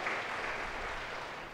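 Applause from an audience at a diocesan deanery meeting in a jubilee year, honouring priests: a dense, even burst of many hands clapping together throughout.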